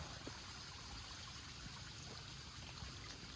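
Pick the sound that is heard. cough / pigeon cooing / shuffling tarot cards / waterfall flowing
waterfall flowing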